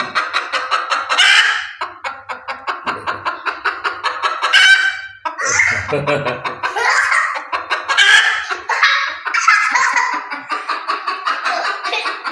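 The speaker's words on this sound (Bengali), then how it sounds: "এই দেখেন মুরগিটা কটকটাচ্ছে" A native desi hen cackles loudly and repeatedly in a rapid, rhythmic series of sharp clucks, rising into excited squawks, close by and continuing throughout.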